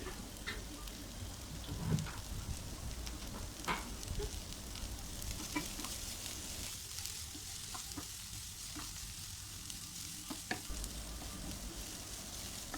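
Sliced broad beans stirred and frying in hot oil, a steady soft sizzle with scattered crackles and occasional spoon scrapes throughout, fairly quiet and without voices.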